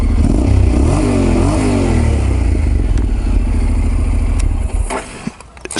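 A Honda NC750X motorcycle engine fires up and settles into a steady, low, throbbing idle with a brief rising rev early on, loud and close, before the level drops near the end.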